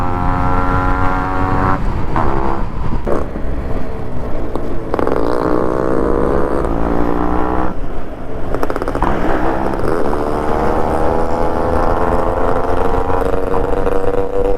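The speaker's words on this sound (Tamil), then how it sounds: "சூப்பராக இருக்குது இந்த எக்ஸாஸ்ட் நோட்டு" A Yamaha RD350 two-stroke motorcycle with a ported engine and five-speed setup, riding near Ooty, gives a loud, steady, raspy exhaust note that rises and falls through the gear changes and runs throughout without talk.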